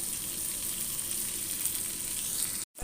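Paneer tikka frying on a hot tawa gives a steady, close hiss of sizzling oil that runs evenly, then cuts out for a moment just before the end.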